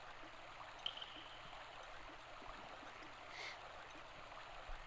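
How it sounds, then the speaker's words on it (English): Steady flowing stream water in the Grandia video game, a soft continuous wash of gurgling water at moderate distance with no talk over it. "I hear water."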